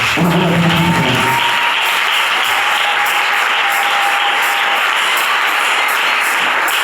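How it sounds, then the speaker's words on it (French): A church congregation at a Sunday service breaks into loud, sustained applause that fills the room evenly, with a faint tonal hum running beneath it. "Acclamez le Seigneur Jésus."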